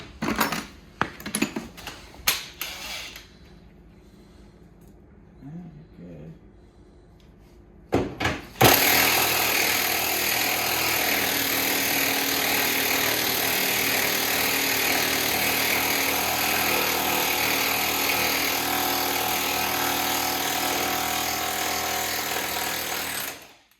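Loud, continuous power-tool rattle from an impact wrench working on the rear sub-frame of a twin-turbo Nissan 350Z, running steadily after several short bursts and clanks of tools in a garage.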